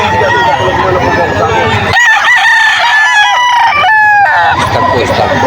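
A young rooster, a stag, at a busy poultry market in Bocaue, Bulacan crows loudly and close by, with strained upward calls over a crowd murmur and other fowl clucking nearby.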